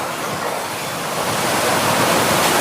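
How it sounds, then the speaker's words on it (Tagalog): Strong wind on a mountain roars steadily with a broad, rushing noise that swells slightly louder toward the end, with no voices. "Lakas yung hangin."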